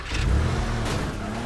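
A sports car engine revs loudly in the video game Teardown, with a steady mid-pitched roar that builds briefly and then holds at a high drone.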